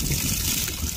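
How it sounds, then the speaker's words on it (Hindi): Water pours steadily onto potted mint plants at home, a loud, close, continuous splashing trickle with a hiss across the whole moment. "इसको भी हम पानी दे रहे हैं"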